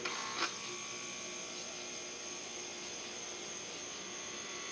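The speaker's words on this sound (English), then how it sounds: "That's the sound of working AC, y'all." A home air conditioner runs with a steady, even mechanical hum and airy whir, a brief louder burst at the start and then holding constant.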